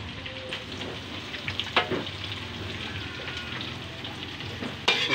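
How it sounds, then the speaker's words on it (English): Garlic and onions fry in a pan with a soft, steady crackling sizzle and a few spatula knocks, fairly quiet and without voices. "Wait until the garlic golden brown. Then I'm gonna put some onions."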